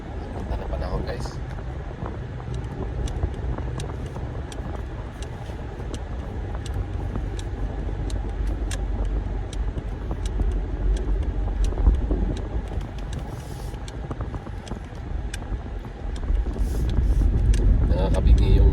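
Cars passing on a road with blind spots, a steady loud rush of traffic noise that swells toward the end, close by, with no voices over it.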